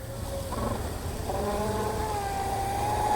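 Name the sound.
RC boat propeller motor running under load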